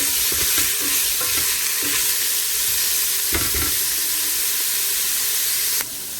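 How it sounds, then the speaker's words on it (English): Steady sizzling of carrots frying in a pan, a constant hiss with occasional stirring scrapes and clinks, close up and without talk. "I'm going to fry this up for like 2 minutes."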